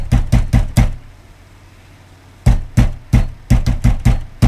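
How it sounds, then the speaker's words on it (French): Loud heavy pounding on a door in two bursts, four hard blows, a short pause, then a faster run of about eight more thumps, close and booming with no voices. "Qui c'est le bourrin qui défonce la porte?"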